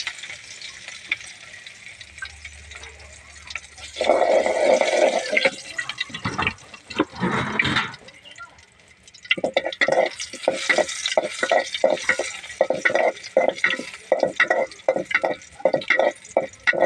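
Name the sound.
crushed garlic frying in hot oil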